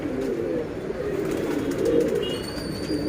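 Pigeons in a loft in Mumbai coo steadily, a low continuous murmur close by, with faint higher chirps near the end and no talking.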